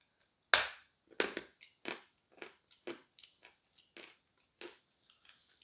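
Salty pink Uzbek edible clay is bitten and crunched, with one sharp first bite followed by a series of dry crisp crunches that fade as the chewing goes on, close and alone.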